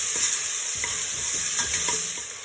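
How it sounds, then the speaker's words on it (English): Food sautéing in a pan, a steady bright sizzle with soft rhythmic stirring scrapes every half second or so, close and fairly loud, with no voices. "Saute for a while."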